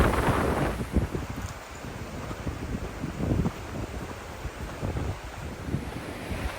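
Strong gusty wind buffets the microphone on a mountain hiking trail in Arizona's Coronado National Forest, rising and falling in a steady rushing roar with occasional heavier gusts, and no voices.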